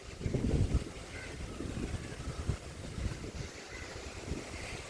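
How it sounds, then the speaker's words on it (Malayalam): Strong wind buffets the microphone outdoors near water, producing a loud, steady rumbling roar with a heavier gust at the start and no voices. "നല്ല കാറ്റ്."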